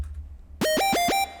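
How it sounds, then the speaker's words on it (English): A wobbly square-wave synth lead in a dubstep/glitch hop track, with oscillator sync modulated by a slow LFO for a bending effect, playing four quick pitch-swooping notes after a moment of near silence, bright and buzzy, heard alone. "And then this kind of woobie square lead."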